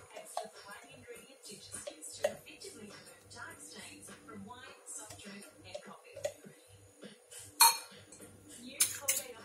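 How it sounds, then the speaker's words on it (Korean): A spoon stirs tuna, celery and mayonnaise in a bowl, giving repeated close clinks and scrapes against the dish. Background sound runs steadily underneath throughout. "뭉쳐있지 않도록 잘 섞어줍니다."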